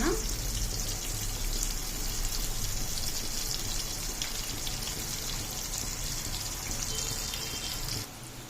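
Onions, ginger, garlic and green chillies sizzle in hot oil for a fish curry, giving a loud, steady crackling hiss that runs unbroken for about eight seconds and then drops a little softer at the end.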